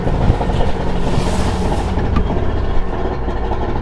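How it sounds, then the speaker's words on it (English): An outboard boat engine runs steadily after sitting unused for a while, a loud, close, continuous mechanical drone with a low rumbling hum and no breaks. "now we're gonna come over here and we're gonna start the engine"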